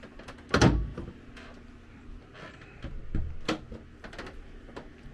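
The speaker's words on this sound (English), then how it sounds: "Doors automatically latch." A cedar-lined, backlit hanging locker door in the cabin of a 50-foot yacht closes with a sharp latching clack, followed by quieter clicks and handling knocks at close range.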